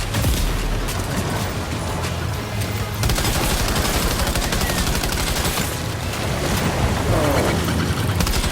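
Dense, continuous gunfire in Death Stranding 2, rapid bursts and volleys layered into an unbroken barrage at full loudness with booming low-end impacts and no talking.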